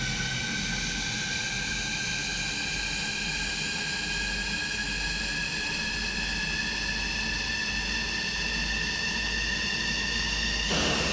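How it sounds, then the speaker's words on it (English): F-15 Eagle jet engines spooling up during a cold-and-dark start in Microsoft Flight Simulator 2020, a steady broadband roar with rising whining tones that climb gradually, with a swell in loudness near the end and no talking. "Now we'll just wait for that, I like to call it spit of left and right engine."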